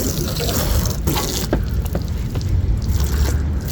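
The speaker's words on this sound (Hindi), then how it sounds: "पानी का नल हमने खोल दिया है, पानी बड़े प्रेशर से आ रहा है।" A water tap opened fully for washing a car gushes under high pressure outdoors, a loud steady rush with small splashes throughout.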